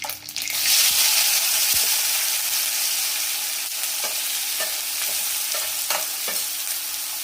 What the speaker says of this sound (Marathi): थोडंसं तेल घालायचं. मोहरी, जिरे,